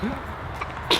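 A single quick sneeze near the end of a brief stretch of background noise and faint voices.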